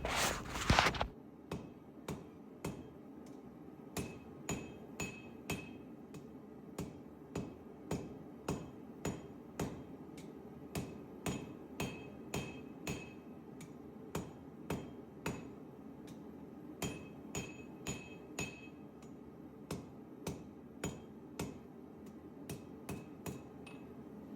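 Regular ringing blows from the round face of a farrier's hammer tapering the edge of a hot san mai damascus steel blade, dozens of sharp metallic strikes in a steady forging rhythm, close and clear.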